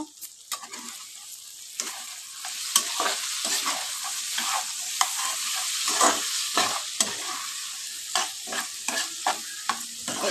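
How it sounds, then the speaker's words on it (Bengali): Okra and potatoes fry on a low flame in a pan, with a soft continuous sizzle broken by repeated close scraping and clacking as a spatula stirs them, no voices. "আমি একটু ভালো করে নাড়াছাড়া করে দেবো"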